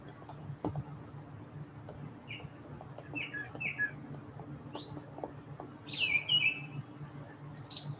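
Wild birds at backyard feeders give a few short chirps and tweets, faint and scattered over a low background hum, with clearer calls toward the end.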